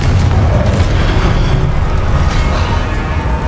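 A Confringo fire spell explodes in the video game Hogwarts Legacy, giving a loud, sustained rumbling boom that fills the whole moment with heavy low-end roar.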